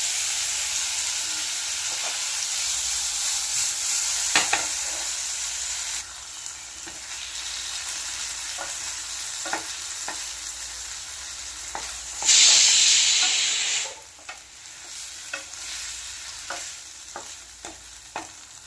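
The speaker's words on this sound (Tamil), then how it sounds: "நம்ம இது கூட மேரினேட் பண்ணி வச்சிருக்கிற பன்னீரை சேர்த்துக்கலாம்." Marinated paneer frying in melted butter in a pan gives a loud, steady sizzle close by, broken by occasional stirring scrapes and a brief surge of hissing steam midway.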